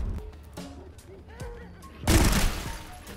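Enemy Gatling gun fire in Sulfur arrives as a sudden loud, dense burst of rapid shots after a stretch of quieter game noise and scattered clicks, with a person talking.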